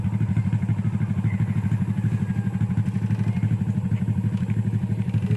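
A motorcycle engine chugs steadily nearby with a fast, even pulsing throb, close and fairly loud.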